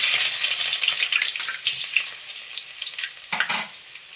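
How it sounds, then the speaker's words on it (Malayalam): Steady, crackling sizzle of ginger frying in hot oil with popped mustard seeds, loud and close, with a brief burst of stirring near the end. "കടുക് പൊട്ടി ഇരിക്കുന്ന അതിലേക്ക് നമുക്ക് ഇഞ്ചി ഇടാം"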